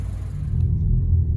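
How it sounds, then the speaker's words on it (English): Low exhaust rumble from a 2020 Toyota Corolla XS hatchback with an upgraded exhaust, heard steadily from inside while driving, a deep continuous drone with no voices. "the exhaust isn't really that loud"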